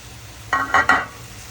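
Ghee-roasted snack ingredients are mixed in a pan, giving three quick scraping, sizzling strokes close by, each about a tenth of a second long, over a quiet background.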